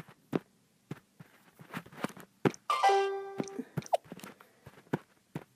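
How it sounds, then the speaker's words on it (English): Windows 3.0 'Chimes' system sound: a short cluster of bell-like tones rings out for under a second amid scattered quiet clicks and taps. "Chimes."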